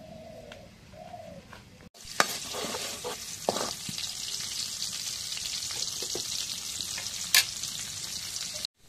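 Crushed garlic hits hot oil in a village kitchen and breaks into a loud, steady sizzle. Soft cooing doves are heard just before, and scattered stirring clinks sit over the frying.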